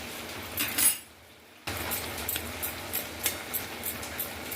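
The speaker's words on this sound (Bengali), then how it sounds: "এবার ঢাকাটা তুলে আমি দেখে নেব" A metal pot lid clinks and lifts off a simmering pot of pineapple, a short sharp rattle followed by a hush, then faint bubbling and small clinks continue.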